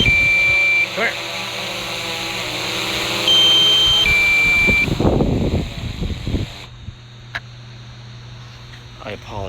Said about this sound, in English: I apologize for that excessive amount of beeping.